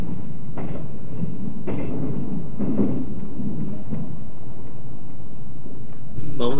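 Low steady rumble of a 381 series Yakumo limited express tilting train running on a mostly single-track line, with a few faint knocks and clicks over the droning undercarriage noise.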